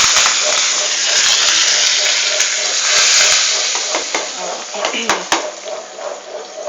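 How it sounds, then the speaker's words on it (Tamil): Asafoetida and curry leaves tempering in hot oil for a brinjal masiyal: a steady, loud sizzle with scattered clinks of a pot and spoon, fading slightly toward the end. "அதை வச்சுட்டு இதில் கொஞ்சம் பெருங்காயம் போடுறேன். ரெண்டு கருவேப்பிலை போட்டுறேன்."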